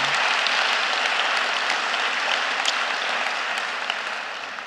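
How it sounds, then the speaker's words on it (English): An audience at a storytelling event honoring mothers applauds the storytellers, a full, even wash of clapping that slowly fades toward the end, with no talk. "Can we have a round of applause for everyone?"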